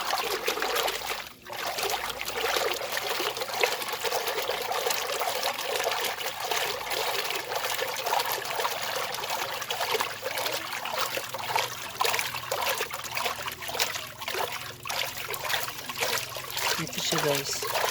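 Cheap aquarium or pond water pump running with a steady trickle and splash of flowing water, fairly faint and constant throughout, with no speech.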